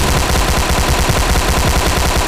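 Loud, dense gunfire in the mobile battle royale game PUBG Mobile Lite as an enemy player is knocked down and finished, rapid shots packed together with no pause for the whole stretch.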